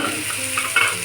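Tomato and chopped chilli tipped into a frying pan while poha is being made, giving a brief, close, crackling sizzle with a quick stirring scrape and a small bump near the end.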